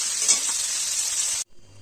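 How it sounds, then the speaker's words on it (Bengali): Salted onions fry in hot oil to make biryani birista, a loud, close, steady sizzling hiss that cuts off abruptly near the end. "এবার আমি ব্রেস্তার জন্য পেঁয়াজটা ভেজে নেবো"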